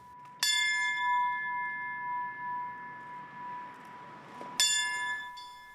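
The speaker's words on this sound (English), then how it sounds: "The ringing of the bell to remember those who lost their lives in service 15 years ago." A memorial bell tolls twice at a remembrance ceremony, each clear struck note ringing out and slowly fading, with a long humming decay between the strikes.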